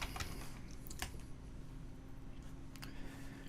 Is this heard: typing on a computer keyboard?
yes